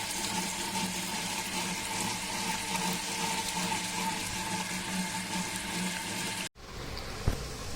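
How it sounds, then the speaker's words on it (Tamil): A wet grinder grinding soaked rice into paste for kai murukku: a steady, dense whirring churn that runs continuously, then cuts off abruptly near the end, leaving a quieter background with a faint knock. "இதை நான் இப்போ கிரைண்டரில் போட்டு நல்லா மைய அரைக்கணும்"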